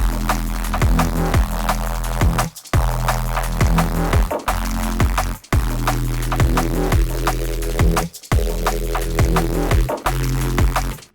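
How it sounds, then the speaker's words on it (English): A thick, growling Reese bass made in the Vital synth pulses in repeated phrases with a swirling, sweeping phaser texture, stopping briefly between bars. Loud and upfront, with no voices. "Today we're going to do a vital phaser Reese bass"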